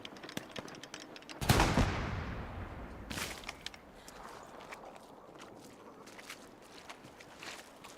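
Gunfire in the World War II shooter Hell Let Loose, heard as one loud close burst followed by a second sharp shot and scattered fainter distant pops over quiet battlefield ambience.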